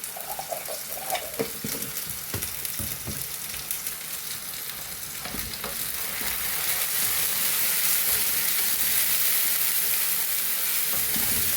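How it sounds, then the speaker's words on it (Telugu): Onions with ginger and garlic paste sizzle and fry in a pan as noodles are cooked, a continuous crackling hiss with occasional stirring scrapes that grows louder and denser in the second half, with no voices. "చూడండి ఉల్లిపాయలు వేగాయి. ఇప్పుడు అల్లం పేస్ట్, ఎల్లుల్లిపాయ పేస్ట్ వేసుకున్నామండి."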